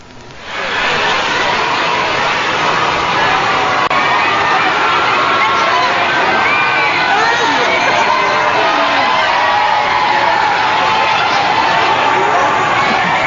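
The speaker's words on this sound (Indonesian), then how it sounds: "kedatangan Ahok di Balai Kota disambut ratusan warga. Mereka memanggil nama Gubernur DKI Basuki Cahayapurnama atau Ahok saat Ahok berjalan di tengah kerumunan." Hundreds of residents crowd the Jakarta City Hall plaza calling out the name of Governor Basuki Tjahaja Purnama (Ahok) as he walks through, forming a loud, continuous roar of overlapping shouts and chatter that fills the whole stretch.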